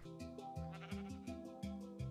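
Sheep in the Minecraft video game bleat in a steady run of repeated, wavering calls, several in quick succession, loud and close with no talking.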